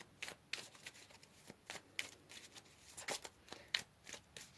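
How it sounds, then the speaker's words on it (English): Tarot cards being shuffled and pulled from a deck during a reading, giving a run of quick papery riffles and flicks in an irregular rhythm, close and fairly quiet, with no voice. "Let's pull another card here."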